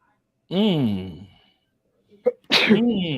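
A single sharp sneeze bursts out after a pause, with a person talking just before and right after it.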